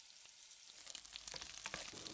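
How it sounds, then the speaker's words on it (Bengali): Raw peanuts hit hot refined oil in a pan, a soft hiss that swells into close, crackling sizzle with brief pops over about two seconds, no voices. "এবার কাঁচা বাদাম ভেজে নেব।"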